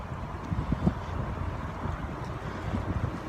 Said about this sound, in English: I'm sorry if there's wind noise.